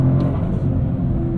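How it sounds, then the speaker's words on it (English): A 2023 Toyota GR Corolla Core turbocharged engine on a canyon run, a steady, loud, low drone heard from inside the car, with a brief faint hiss early on. "I appreciate the inconsistency of the turbo noises as well."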